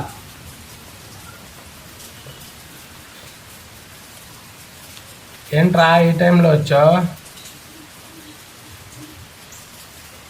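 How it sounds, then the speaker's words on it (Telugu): Heavy rain during floods in Vijayawada makes a steady, close hiss throughout, and a voice briefly speaks a short line over it midway. "3 రోజుల నుంచి వర్షం పడుతూనే ఉంది"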